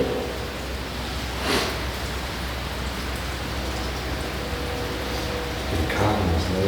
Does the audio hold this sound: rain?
yes